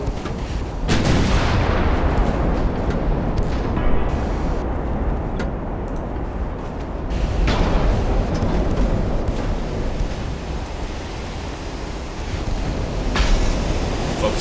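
Heavy naval gunfire from warships in the Ultimate Admiral Dreadnoughts battle game, with loud booming salvos near the start and around the middle, followed by rolling rumble and sea-like wash throughout.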